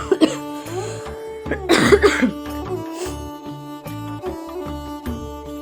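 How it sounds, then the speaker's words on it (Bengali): A woman with a cold coughs a couple of times, loud and close, in a quiet room with steady background music. "সরি একটু কাশি হয়ে গেল"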